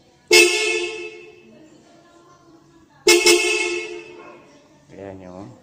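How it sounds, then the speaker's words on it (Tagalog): A Global brand relay horn fitted to a Rusi motorcycle sounds two loud, brassy honks about three seconds apart, each fading out, followed by a short voice at the end. "Ito na yung dalawang busina."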